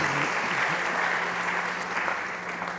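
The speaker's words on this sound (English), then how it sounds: "please, big applause." A conference audience at a South Summit 2023 startup stage gives sustained, even applause, a dense clapping wash over a low steady hum that eases slightly toward the close.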